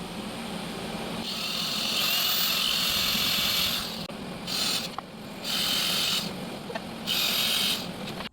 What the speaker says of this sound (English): She's about to drill us some holes